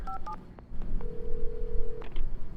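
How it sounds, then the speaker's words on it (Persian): A telephone in the video game Alan Wake Remastered gives two quick paired beeps, then one steady electronic tone held for about a second, followed by faint clicks. "تلفن"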